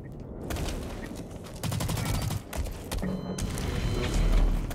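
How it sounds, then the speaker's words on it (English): An assault rifle in Blacklight Retribution fires in rapid, loud bursts of crackling shots with brief pauses between volleys. A heavier thump lands near the end. "Assault rifle."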